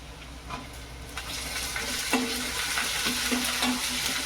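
Finely chopped onion fries in a pan with a continuous sizzling hiss and scattered scraping stirs, close and moderately loud, with no voices.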